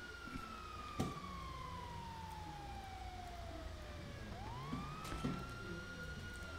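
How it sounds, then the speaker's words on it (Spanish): A police siren in the GTA video game sweeps slowly downward and then rises again over a steady engine hum, with faint thumps and clicks in the game audio and no clear speech. "¡Pero que había patrulla, Gil!"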